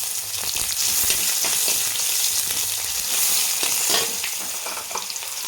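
Bay leaves, five-spice seeds, a dry chili and chopped onion fry in hot oil for moong dal with drumsticks, giving a steady, loud sizzle with crackling bursts throughout and no voices.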